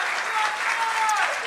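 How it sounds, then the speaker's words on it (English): Dense, steady applause from a church audience clapping for a pastor, a continuous wash of many hands at even loudness, filling the short moment without a break. "Can we clap it up for Pastor Jonathan?"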